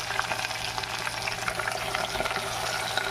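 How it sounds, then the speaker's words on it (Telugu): Gongura leaves frying in oil in a pan for Andhra-style gongura pachadi, a steady, soft continuous sizzle with light bubbling, close and unbroken, no talking. "నేను గోంగూర నీళ్ళలో వండట్లేదండి, నూనెలోనే వేయించుకున్నాను."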